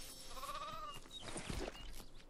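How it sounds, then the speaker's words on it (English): A sheep in the video game Lego Fortnite gives a single wavering bleat, followed by soft game rustles and small effects, fairly quiet with no speech. "Is that a sheep?"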